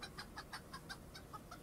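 Chickens cluck near a barn in a quiet, repeated run of short calls spaced about every fifth of a second, fairly faint and close, with no one speaking.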